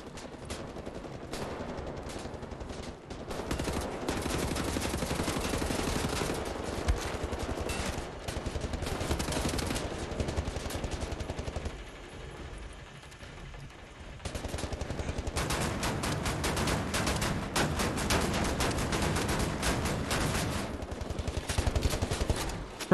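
Rapid, sustained gunfire from two weapons fired at once in the video game Wolfenstein The New Order, loud and dense for most of the stretch with a brief lull midway, with no talking.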